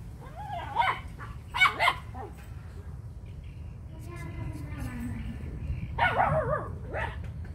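Three-month-old puppy fighting a rat, with a few sharp yips and barks early and a whimpering burst near the end, heard close over a steady low rumble while people talk nearby.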